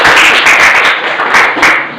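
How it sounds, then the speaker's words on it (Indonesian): A classroom claps for a student, a close, loud burst of applause of many hands that swells, dips briefly and rises again over two seconds. "Kasih tepuk tangan untuk Agni ya."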